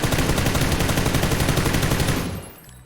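An automatic rifle fitted with a compensator fires a loud, rapid, continuous burst in the video game PUBG, then stops abruptly and leaves a short fading tail.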